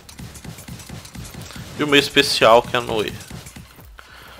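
A horse mount gallops in the video game Paladins with rapid, rhythmic hoofbeats, clearest at the start and then under someone talking in the middle before a brief quiet end.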